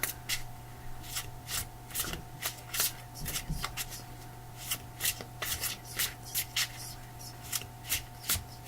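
A tarot deck being shuffled by hand, a steady run of quick papery riffles and slides close up, with a low constant hum underneath and no talking.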